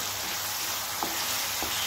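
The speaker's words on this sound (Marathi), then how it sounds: "हा कांदा छान तांबूस रंगावर तर आपण परतून घेणार आहे" Chopped raw onion sizzles steadily in hot oil with whole spices for chole, a close, continuous frying hiss with a couple of faint stirring scrapes and no talking.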